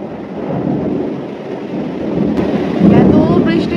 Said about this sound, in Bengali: একদম বজ্রপাত হচ্ছে, ভীষণ জোরে শব্দ